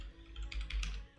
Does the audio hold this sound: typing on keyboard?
yes